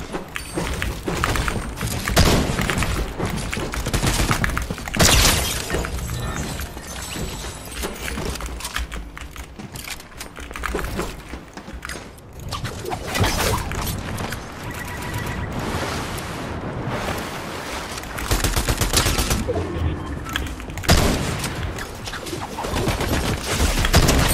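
Dense, loud bursts of auto shotgun fire in Fortnite, with rapid repeated blasts and other gunfire running almost continuously amid busy game sounds.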